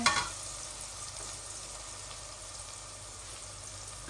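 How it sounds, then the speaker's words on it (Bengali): Onions sizzling and frying in a pan, a steady soft crackle after a brief clatter at the start, with no talking. "ওই দেখো আমার পেঁয়াজগুলা হাফ কুক হয়ে গেছে"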